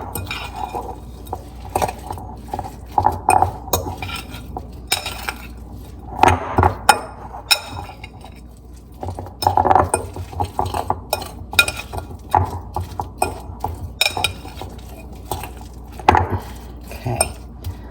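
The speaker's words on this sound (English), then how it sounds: "you're just gonna mix that really well" Oats being stirred into cookie dough in a bowl, giving irregular scraping and clinking of a utensil against the bowl with soft thuds, close and fairly quiet, with no talk.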